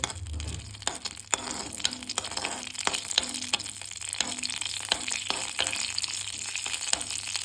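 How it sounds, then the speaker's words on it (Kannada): Cashews fry in hot oil in a pan for kesari bath, a quiet, close sizzle marked by repeated sharp clicks and scrapes of stirring at an uneven rhythm. "ಸೊ ಗೋಡಂಬಿ ಸ್ವಲ್ಪ ಕೆಂಪು ಬಣ್ಣ ಆಗೋವರೆಗೂ ಚೆನ್ನಾಗಿ ಹುರ್ಕೋಬೇಕು ಇದನ್ನು"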